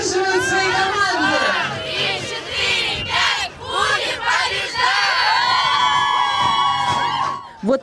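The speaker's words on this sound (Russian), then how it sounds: "Болельщики поддерживают свои команды!" Supporters at a canoe rowing competition cheer their teams with loud overlapping shouts, whoops and chants, a dense, continuous crowd roar throughout.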